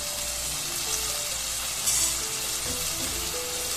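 Mutton stock going into a pot where mutton stew ingredients are frying, with a loud, steady sizzle close up and faint stirring beneath it.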